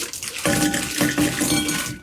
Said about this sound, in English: then you just cover them with cool water. You can keep the water running